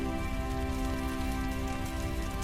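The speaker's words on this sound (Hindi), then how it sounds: "बाहर अब भी मूसलाधार बारिश हो रही थी।" Heavy rain pours steadily outside a hut on a cold night, a dense, even hiss with no breaks, heard alone without voices.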